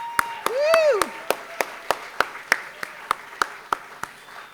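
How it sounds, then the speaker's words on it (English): A few people clap in a steady, evenly spaced rhythm at a community Lunar New Year celebration, with a single rising whoop near the start; the claps are crisp, separate and moderately close. "Let's give them another round of applause."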